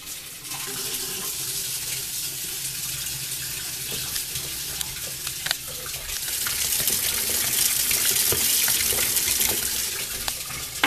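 Running tap water pours steadily into a sink during washing in a cooking setting, a loud continuous gush close by that grows slightly stronger midway, with no talk over it.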